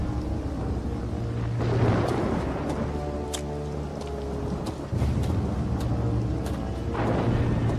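Storm ambience from the video game Two Worlds: steady rumbling wind and rain wash with a low droning hum, swelling at intervals and holding loud throughout without any talk.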